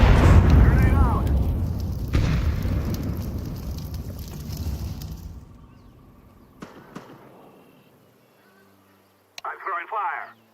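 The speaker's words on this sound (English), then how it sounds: "Grenade out!" A grenade blast in Counter-Strike 2 sounds as a big booming roar with a long rumbling decay, followed by fainter thuds and a short burst of radio-like chatter near the end.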